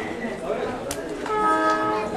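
A train passes nearby, a broad rumbling wash with a brief bright whistle-like burst and rising tonal hum, heard alongside people talking close by.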